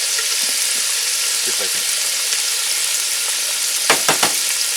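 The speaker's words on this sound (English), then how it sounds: "Just gonna fry this together for a few minutes." Macaroni and chicken with ricotta fry in a Dutch oven with a steady, dense sizzle, joined near the end by a few sharp scraping knocks of a utensil. A voice speaks briefly and softly.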